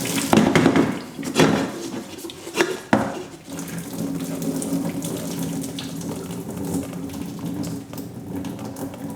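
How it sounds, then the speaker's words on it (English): Water is tipped from a pot of chips into a sink, pouring and splashing with a few sharp clunks of the pot early on, then settling into a steady trickling drain. "Just try and tip the water away without losing the chips."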